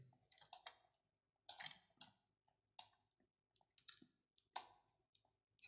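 Mouse clicks while selecting and dragging in Photoshop CC 2018: six or seven crisp, close, quiet clicks in an irregular rhythm, some in quick pairs, separated by near silence.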